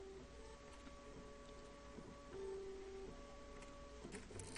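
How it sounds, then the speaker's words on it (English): A printer running in the video game One Late Night gives off a quiet mechanical whirr with steady tonal hums and faint rhythmic ticking, heard alone and fairly soft. "Why do I hear a fucking printer?"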